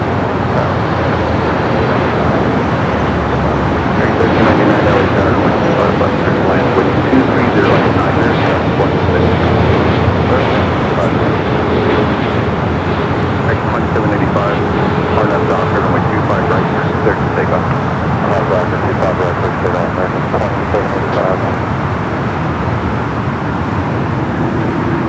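A Philippine Airlines jet, flight 102 from Manila, roars steadily at Los Angeles International Airport, a loud continuous broadband engine rumble heard from a rooftop vantage with a voice talking over it.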